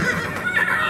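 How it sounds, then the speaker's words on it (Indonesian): A horse gives a short, loud whinny in a stable in a horror film, a single close burst lasting under a second. "kuda Jake mulai meringkik keras di kandang"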